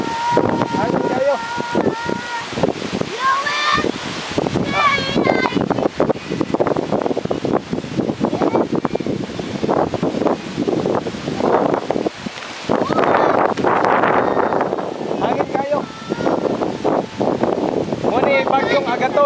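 Strong typhoon wind from Typhoon Agaton roars steadily and loudly into the microphone for the whole stretch, buffeting and gusting, with people talking over it at times.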